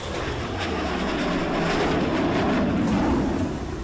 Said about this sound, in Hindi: जेट इंजन की दहाड़ सुनिए। इस गड़गड़ाहट के साथ दोनों मिराज टेक ऑफ करते हैं